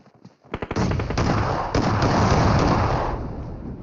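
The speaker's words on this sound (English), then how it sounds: "Oh, a grenade barrage coming through there, eliminating a member as well." Grenade barrage in a PUBG battle royale tournament match, a quick series of sharp pops leading into a sustained roaring cluster of explosions that swells loud and then slowly fades.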